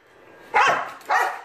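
A dog gives two sharp, loud barks close by, the second following about half a second after the first, with quiet in between and no talking.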